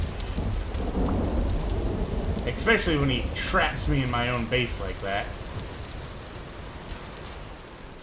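Steady heavy rain with rolling thunder fills a scene in the game Vintage Story, while someone talks over the downpour partway through.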